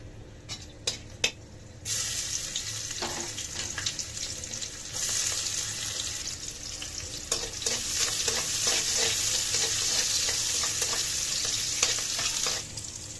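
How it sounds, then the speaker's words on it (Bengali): Steady sizzling of garlic frying in hot oil, with occasional stirring scrapes and clinks, continuous and close. "এই রসুন এত ভাজা ভাজা করবো না"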